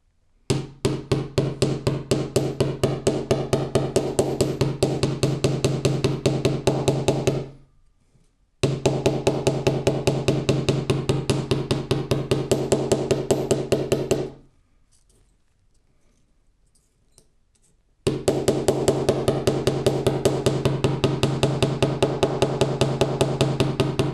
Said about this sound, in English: I'm going to use this side of the hammer to create a fantastic hammered edge